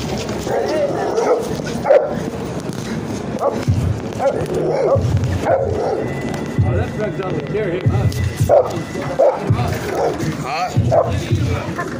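A dog barks in an excited, yipping way on a street in Portland, Oregon, its barks and whimpers repeating through the scene while people argue loudly nearby.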